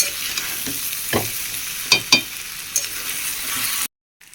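Pre-fried potatoes are stirred into a sizzling mutton curry, a steady hiss of frying punctuated by a few distinct spoon knocks and scrapes against the pot, then abrupt silence.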